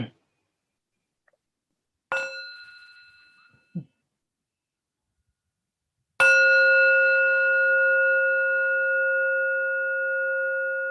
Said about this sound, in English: can I invite one sound of the bell first